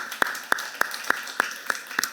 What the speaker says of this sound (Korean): 우리 하나님께 큰 박수로 영광을 돌리겠습니다